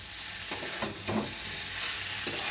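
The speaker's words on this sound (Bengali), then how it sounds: "আমার আলুটা একটু শক্ত রয়েছে, আর একটু ভাজা ভাজা হবে আলুটা।" Potatoes frying with fish in a pan, giving a quiet steady sizzle with a few soft stirring scrapes, close and faint.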